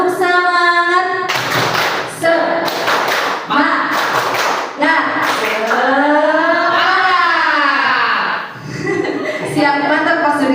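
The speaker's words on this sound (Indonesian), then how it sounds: "Yuk semuanya tepuk semangat." A group of teachers at a school session claps a rhythmic spirit-clapping pattern in bursts, interleaved with loud chanting voices and a leader calling out between the claps.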